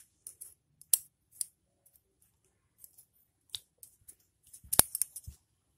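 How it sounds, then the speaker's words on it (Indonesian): Specialist scissors snip through a rubber seal at a cut joint, giving a few sharp, close clicks spread out with quiet gaps between them and a busier cluster of snips near the end. "Dengan gunting spesialis."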